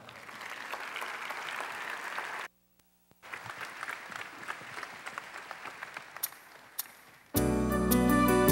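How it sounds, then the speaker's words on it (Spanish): Applause at a university graduation ceremony honoring student performers, a steady crowd clapping that breaks off briefly, resumes, then gives way to music near the end. "para quienes pedimos un aplauso."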